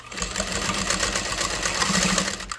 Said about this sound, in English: I like to sew my open edge first